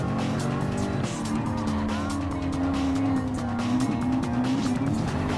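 Race cars in a Gran Turismo Sport race, including a Nissan R92CP Group C car, roar continuously with a high sustained engine whine and tire squeal, loud and steady throughout.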